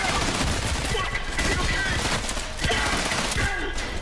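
Rapid gunfire in the first-person shooter Trepang2, dense bursts of loud shots and impacts continuing throughout with a brief voice in between.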